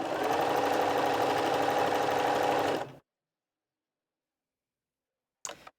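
A Bernina 380 sewing machine hums and ticks rapidly as it stitches a buttonhole, a steady close mechanical whir that stops abruptly, then a brief click after silence.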